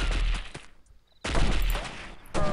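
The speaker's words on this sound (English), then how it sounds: "Now I wonder who's shooting at me at this point." Loud bursts of enemy gunfire from the tactical shooter game Delta Force, in an Uzbekistan mission, come in two rapid volleys separated by a short pause, with another burst starting at the end.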